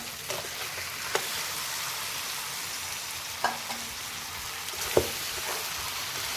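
Goat head meat added to hot spiced oil fries with a steady, dense sizzle throughout, broken by a few sharp pops and clinks of stirring.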